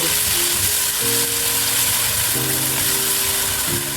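Garlic and onion sizzle and crackle steadily in a hot pan, a dense continuous frying hiss with faint clinks of stirring.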